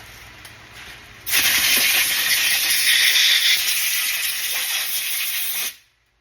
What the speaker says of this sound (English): Take some compressed air.